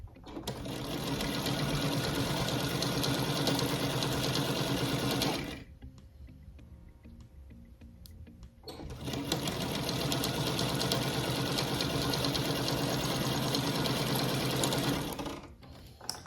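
A sewing machine runs fast and continuous while stitching a log cabin chip quilt, stops for a few seconds of quiet handling, then resumes for another long run, close and steady.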